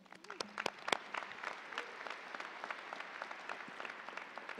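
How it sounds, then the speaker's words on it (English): An audience at a medical school white coat ceremony breaks into applause, sharp claps at first then settling into steady, moderately distant clapping from a large room. "I'd like to give yourselves a round of applause."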